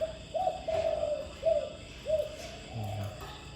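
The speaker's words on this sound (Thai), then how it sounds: "อันนี้คือจะถ่ายเสียงขันโยนตอนกลางคืน ไว้ให้ฟังก่อนนะครับ" A spotted dove at night gives repeated soft, rounded coos in a steady rhythm at moderate distance, with faint background hiss and a low hum near the end.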